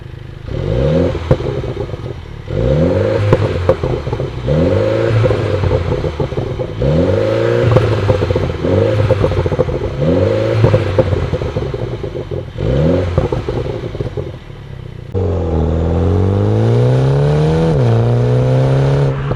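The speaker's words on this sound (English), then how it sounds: "Oh, the exhaust is so nice." Exhaust of a 2020 Mini Cooper JCW on a mountain pass: repeated loud revving bursts, each pulling up through the gears with pops between, then a long steady climbing drone near the end.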